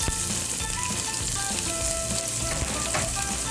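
Onions sizzle in several tablespoons of hot oil for a mutton liver fry, a loud, even, continuous hiss with faint crackles and no voices.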